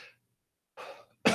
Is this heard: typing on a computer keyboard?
no